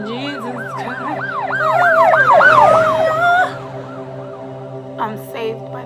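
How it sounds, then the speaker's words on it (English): A loud wailing police siren sweeps up and down close by over engine rumble, then fades, with a couple of short sounds afterward. "This is where the sirens go off."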